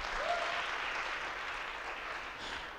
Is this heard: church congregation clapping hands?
yes